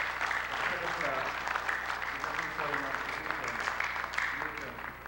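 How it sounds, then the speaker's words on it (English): Audience applause for a performer at a 1996 lecture event, steady and moderately distant, with a voice speaking over it. "Let's get a round of applause, please, for teacher of second class."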